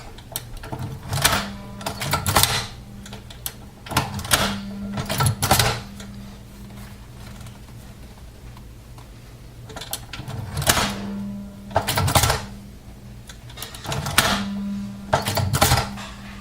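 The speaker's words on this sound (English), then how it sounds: "Then start stitching." A sewing machine stitches a leather knife sheath in repeated short mechanical bursts of a couple of seconds each, separated by quieter pauses, close and loud with no talking.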